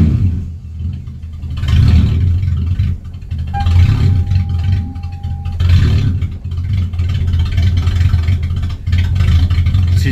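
A race car with stock manifolds, a 2.5-inch twin exhaust, a 100-cell high-flow cat and no mufflers rumbles loudly, its engine droning and surging in deep, raw revs with no talk.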